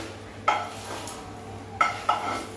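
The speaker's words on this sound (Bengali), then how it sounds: "আম্মু এখানে একদম মন দিয়ে ডিমগুলো ভেজে নিচ্ছে" Fish eggs fry in a pan, a faint sizzle under a few sharp metallic clinks and scrapes of a utensil against the pan, spaced about a second apart.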